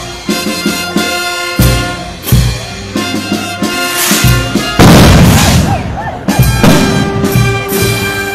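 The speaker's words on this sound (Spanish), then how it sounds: "se escuchó una fuerte explosión de parte de estos juegos pirotécnicos" Fireworks explode loudly at a traditional Holy Cross festival chapel celebration in Chancay, with a dense, sustained burst of bangs and crackles in the middle and tonal music playing before and after.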